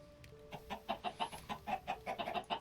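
Chickens in Minecraft (Sky Factory 4) clucking in a steady run of short, evenly spaced calls, fairly close and moderately loud over a faint background hum.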